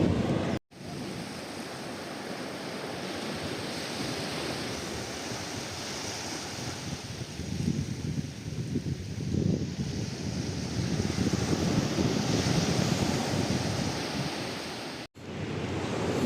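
Ocean waves wash and roar continuously at Ubatumirim beach, a steady broad surf swelling gently with some wind rumble against the microphone, with no voices over it.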